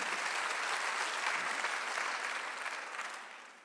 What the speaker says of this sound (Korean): 빨리 박수 주세요